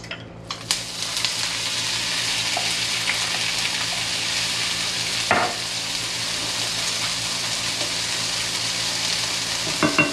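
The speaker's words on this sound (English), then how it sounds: "I'm going to add the corn and the jalapenos to the pan. It's going to start sizzling." Corn and jalapeños sizzle and crackle steadily in a hot pan, a constant bright hiss with a few clinks of a utensil against the pan.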